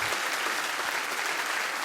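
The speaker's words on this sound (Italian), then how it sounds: "Quindi un applauso per Belvì." A crowd at a Sardinian choir solidarity concert in Tonara applauds the Belvì group, with dense, even clapping held at full strength across the whole moment.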